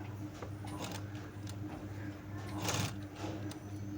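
A sewing machine stitches a long frock, its steady motor hum and needle chatter running throughout at close range, with a few louder bursts as the fabric is turned at the corners.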